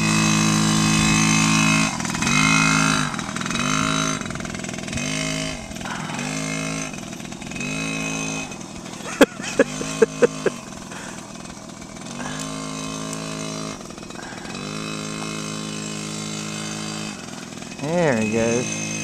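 Dirt bike engine revving hard at full throttle, a raspy buzzing drone with rising and falling pitch as the rider passes, loud and continuous, with people talking and cheering over it.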